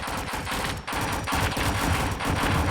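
Rapid automatic gunfire from a Roblox video game, bursts of closely spaced shots rattling almost continuously with one brief pause, loud and close, with no speech over it.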